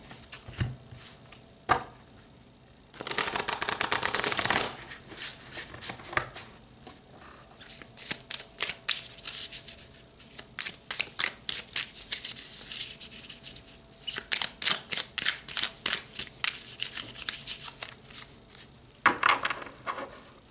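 Tarot cards being shuffled by hand, with repeated riffling bursts and quick flicking and tapping between them, close and fairly quiet, with no talking.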